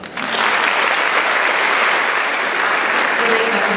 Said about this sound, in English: I think that's the most applause so far